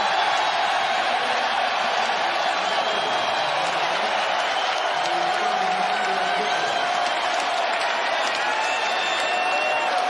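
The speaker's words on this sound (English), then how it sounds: "Crowd applauding Rose." An arena basketball crowd at an NBA playoff game applauds and cheers Derrick Rose, a loud, steady wall of clapping and crowd roar that holds evenly for the whole stretch.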